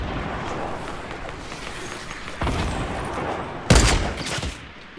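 Fortnite gunfire in gameplay: a loud burst of shots under a busy, noisy game background, with one sharp close blast standing out near the end.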